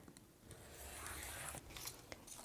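An old rotary blade cuts along a ruler through quilting fabric: a short, close, faint rasping scrape lasting a couple of seconds, with no talking.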